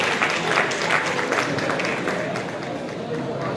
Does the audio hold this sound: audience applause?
yes